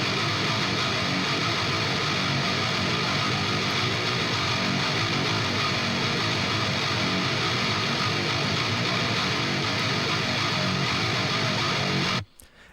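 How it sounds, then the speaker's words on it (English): Two main heavy guitar tracks, recorded through DI with an Argent compressor, play together in a dense, continuous, saturated wall of sound from a DOOM-style mix, cutting off abruptly near the end. "I've basically got two main guitar tracks at the moment, and they sound like this."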